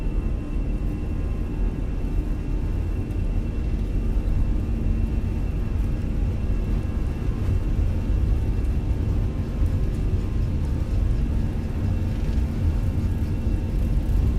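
Airliner jet engines spool up on a takeoff roll in a Fenix flight simulator departing Heathrow for Edinburgh, a steady loud low rumble and whir holding near-constant through the run, with no talk.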